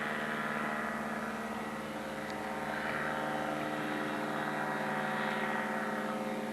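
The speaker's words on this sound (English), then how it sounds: "It's an ultralight plane." An ultralight plane drones steadily overhead, a continuous moderate engine hum that holds for several seconds with no talk.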